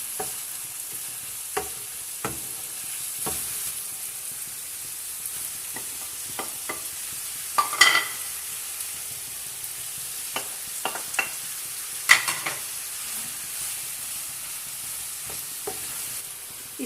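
Julienned bell pepper and carrots stir-fried for chicken BBQ rice, with a steady close sizzle and repeated scraping stirs of a utensil against the pan, no talking.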